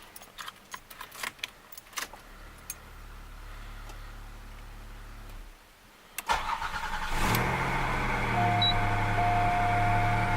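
A 1987 Oldsmobile Toronado with a refreshed engine starting for the first time: keys jangle, the starter cranks, then the engine catches and settles into a steady, louder idle nearby.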